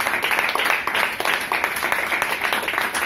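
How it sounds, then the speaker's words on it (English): Audience applause for mentors fills a hall, a dense, steady wash of many hands clapping at close range with no talk over it. "can we have a very loud round of applause because the job that they do is truly unbelievable. Loud round of applause."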